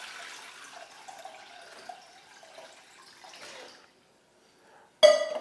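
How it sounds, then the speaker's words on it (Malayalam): About a litre of water poured into 100 ml of rice water to dilute it, a close, steady trickling pour that stops abruptly, followed by near silence and then a short, sharp splash. "ഈ 100 ml കഞ്ഞിവെള്ളത്തിലേക്ക് 1 ലിറ്റർ വെള്ളം നമ്മൾ മിക്സ് ചെയ്ത് ആ കഞ്ഞിവെള്ളത്തിനെ നമ്മൾ ഡൈല്യൂട്ട് ചെയ്യണം."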